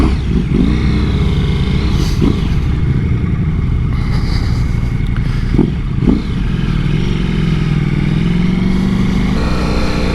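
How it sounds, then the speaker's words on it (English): A BMW motorcycle engine, likely the S1000RR, runs steadily close by with a throaty idle and a few short revs rising over the drone, and no talking. "You get to hear that engine."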